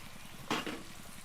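Chopped onion, garlic and green chili sizzle in spiced oil in a pan for a jute-leaf prawn dish, a steady close frying crackle with one brief louder stirring burst midway and no talk.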